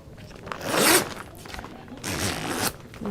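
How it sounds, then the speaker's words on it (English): Zipper on an Optipod patient positioning device being drawn closed, two quick ripping pulls near and clear, the first louder, with a short pause between. "So I'm going to just zip this one up as well."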